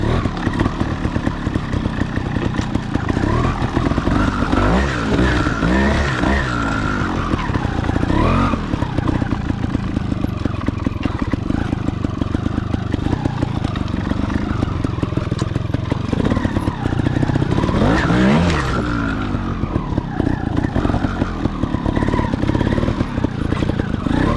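A 2017 TRS One RR 300cc trials motorcycle riding over rocks, its two-stroke engine loud and close throughout, revving up and down in repeated surges with clattering and tyre scrabbling.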